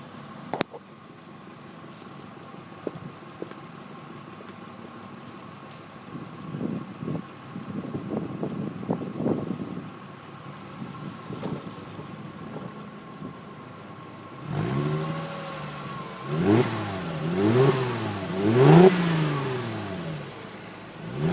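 A Mercedes-Benz C350 sport sedan idles quietly with a low hum, then takes a few short blips of throttle. After that come several louder, rising and falling revs close by, with no voices.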